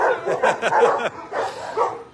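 Several dogs bark in a dog shelter kennel, including a big German Shepherd and a Rottweiler mix, with quick overlapping barks and yips close by in two bursts, then a short pause.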